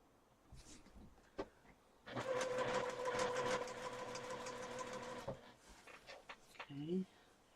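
A sewing machine stitching quilt pieces together runs in a steady, whirring burst of a few seconds, with a speaker talking faintly before and after the stitching.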